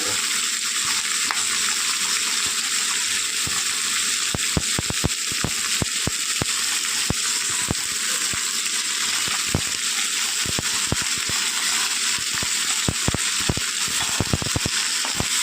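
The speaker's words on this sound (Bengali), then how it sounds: "এবার আলুটাকে আমি নুন দিয়ে খুব ভালো করে ভেজে" Potato pieces fry with salt in a pan for a Bengali potato and bhola fish dish, a steady loud sizzle with scattered sharp crackles and pops throughout, no voices.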